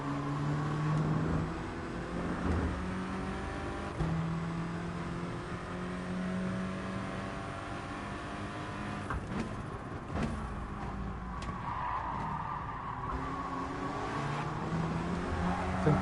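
A Nissan GT-R race car in Gran Turismo Sport at the Nürburgring 24h, its engine a continuous moderate drone rising and falling in pitch through shifts and revs, with a faint higher whine on top.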